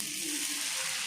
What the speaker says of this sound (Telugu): ఫస్ట్ ఆయిల్ వేసుకొని ఆనియన్తో అట్లా రుద్దుకొని నెక్స్ట్ దోశ పిండి వేసి ఇలా స్ప్రెడ్ చేయాలి